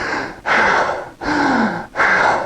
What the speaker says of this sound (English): This is not the way to breathe.